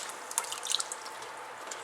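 Beef broth poured into a pot for Cajun meatball stew, a soft steady liquid trickle with a few faint drips and splashes, quiet and close.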